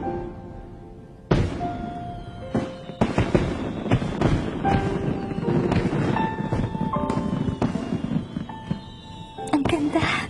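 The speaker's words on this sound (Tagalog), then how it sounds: "Ang ganda ng fireworks." Fireworks explode in a rapid series of sharp booms and crackling bursts, loud and close, beginning with one sudden blast and then popping irregularly and densely for several seconds.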